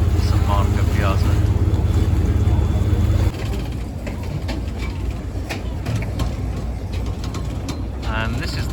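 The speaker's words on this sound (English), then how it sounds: "And this is the boat, the river bus that's brought us to St Marco." A river bus waterbus in Venice approaching St Mark's Square: a loud, steady low engine drone for the first few seconds, then rushing wind and water noise, with people talking at times.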